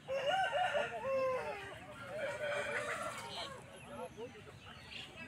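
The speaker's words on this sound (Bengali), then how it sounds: "খুবই সুন্দর মোরগটা দেখছেন আপনারা।" A two-year-old rooster for sale at Feko Haat, a village poultry market in Jhargram, West Bengal, crows loudly and close in a long wavering call, with other fowl and a murmur of voices behind it.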